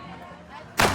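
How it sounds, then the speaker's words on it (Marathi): A firecracker set off outdoors to welcome a new car. After a quiet stretch of background noise comes a single sharp, loud bang. "नवीन गाडीचं स्वागत केलेलं आहे फटाक्यांनी."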